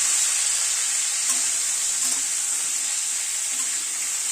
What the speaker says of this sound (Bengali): নুন আর হলুদটা সবজির সাথে মিশিয়ে দিচ্ছি